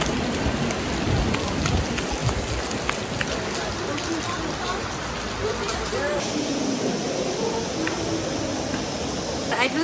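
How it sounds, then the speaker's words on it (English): Heavy, steady rain pours down in a dense continuous hiss on the way to Machu Picchu, Peru, with a voice talking faintly underneath. "There's so much rain"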